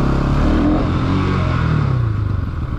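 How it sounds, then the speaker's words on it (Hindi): A Bajaj Pulsar NS 200 motorcycle engine revs hard for a wheelie, a loud close roar with its pitch rising and falling through nearly three seconds. "अब मैं करता हूँ व्हीली एनएस 200 पे।"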